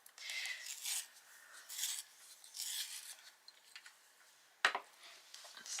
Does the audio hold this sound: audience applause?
no